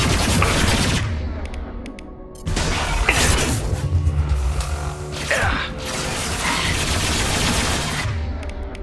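Sci-fi combat gunfire from Mass Effect 2 during an assault on the Geth headquarters: dense, sustained weapon bursts and mechanical clatter, with a short lull before the firing surges back loud and close.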